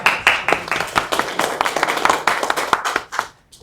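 A community council meeting audience claps in a burst of dense, moderately loud applause that fades out toward the end.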